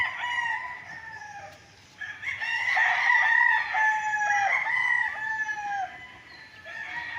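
Several gamecocks crow at a small roadside training cockpit on a farm lot in Pagsanjan, Laguna, their loud overlapping crows rising and falling close by with barely a pause.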